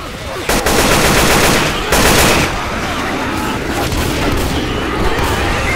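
Heavy gunfire from several weapons rattles in Left 4 Dead 2's Parish campaign, loud, dense automatic bursts rolling together with sharper blasts near the start and around two seconds, continuous and close.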